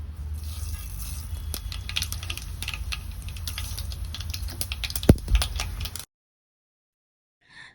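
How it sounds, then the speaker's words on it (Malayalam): Rapid, irregular popping and crackling of half a teaspoon of mustard seeds in hot oil, close and continuous, with a couple of sharp clinks before it cuts to silence. "അര ടീസ്പൂൺ കടുക് ഒഴിച്ച് കടുക് ഇട്ടിട്ടൊന്നും പൊട്ടിക്കുക"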